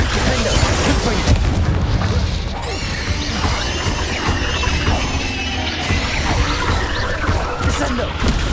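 Blasting-curse explosions crash and boom one after another in the Hogwarts Legacy video game, thick with layered combat effects and swooshing spell sounds, while a voice calls out spell names over the dense, loud mix.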